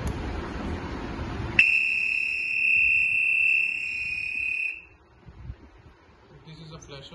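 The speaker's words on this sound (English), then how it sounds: "When you press this button for more time, the beep will come." A steady electronic beep from a contactless breathalyzer alcohol detector, sounding once for about three seconds as the button is held, loud and close, then cutting off to quiet room noise.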